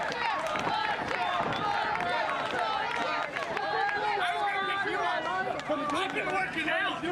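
A wrestling crowd cheering for the Darq Karnival at a Brawl USA show: a dense, continuous roar of shouting, clapping and chatter filling the hall at steady loudness, with a commentator's voice audible over it.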